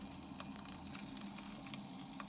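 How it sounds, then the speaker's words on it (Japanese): Bacon sizzles in a pan as it fries until crisp, with spinach about to join it. The frying is a faint, steady crackle with small pops and no voices. "ベーコンが炒まりましたらここにほうれん草を入れます。"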